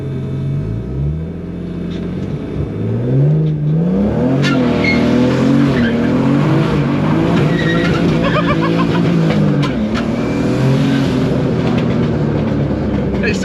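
A 450BHP turbocharged BMW E46 drift car roars at steady high volume, its engine pitch climbing and dropping through revs while tyres scrub, sustained and close with no pauses.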